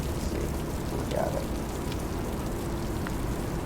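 Steady rain from the American Truck Simulator video game falls as a dense, even wash of noise, continuous and fairly loud throughout with no talk.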